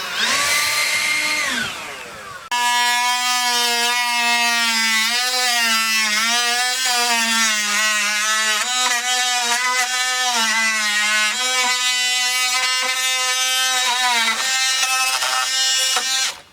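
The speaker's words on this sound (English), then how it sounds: "Oscillating saw." A power tool's motor whines loudly and continuously for over a dozen seconds, its pitch wavering up and down as the oscillating saw bites into material, with a brief rising spin-up before it settles into cutting.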